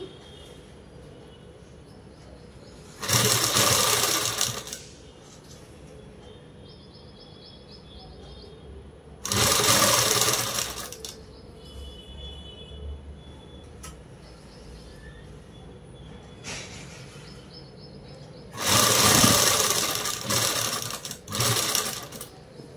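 A sewing machine stitches a garment lining for a home-made dress in three separate loud bursts of rapid whirring, each a few seconds long, with quiet pauses in between.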